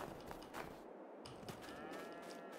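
Cattle low and moo in the farming video game Farming Simulator 22, with drawn-out calls overlapping over a dense, steady bed of farmyard ambience and no talking.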